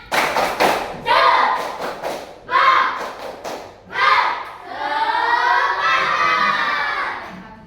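Schoolchildren in a class clap together in a patterned rhythm of quick bursts and pauses, ending in loud shouting and cheering, close and energetic.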